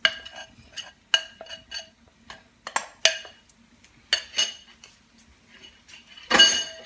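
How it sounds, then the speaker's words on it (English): Dishes and cutlery clank and clink into a kitchen sink during curry cooking, a series of sharp, close metallic and ceramic hits at irregular intervals, ending in a louder clattering pile-up. "And chuck the dishes in the sink"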